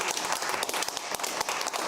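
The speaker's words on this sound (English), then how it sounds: "Big round of applause, Critical Drinker" Studio audience on a television talk show applauding, a steady dense wash of many hands clapping at moderate level for under two seconds, with no voices over it.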